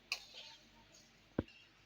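Poha chivda, a snack of flattened rice with peanuts and dried red chillies, is stirred in a pan, giving a few faint scraping clinks of a spoon against metal, soft and sparse in a quiet kitchen.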